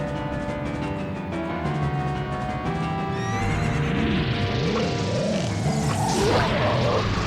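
A horse whinnies loudly in a long, wavering neigh that rises and falls, with steady tones beneath it from the video game The Legend of Zelda: Ocarina of Time.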